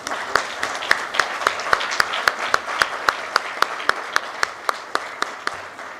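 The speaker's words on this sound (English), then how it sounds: "Let us give them a big applause." An audience claps steadily at an LOI exchange ceremony during a CMA CGM event at India Maritime Week 2025, with sharp, evenly spaced claps cutting through a broad wash of applause that carries on throughout.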